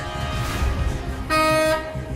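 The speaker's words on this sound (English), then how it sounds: "Maybe this air horn will do the trick." A sustained, loud air horn blast sounds for about half a second in the middle, over a busy background of noise from the game The Journey Down.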